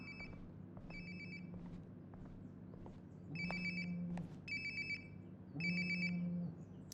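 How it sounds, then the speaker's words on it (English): A mobile phone ringing nearby in the video game Life is Strange: Before the Storm, repeated electronic chime bursts with short gaps, alongside a lower buzzing vibration pattern, fairly faint over quiet background. "Sounds like my phone is definitely nearby."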